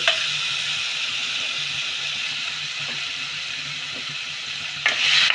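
Spice-coated paneer pieces sizzle steadily in a hot pan over medium heat, with a constant frying hiss and a brief stirring clatter near the end.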